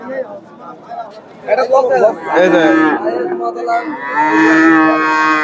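Friesian cattle moo loudly at a busy cattle market in Dakumara, Bogura, several long drawn-out calls close by, with people talking and market chatter in the background.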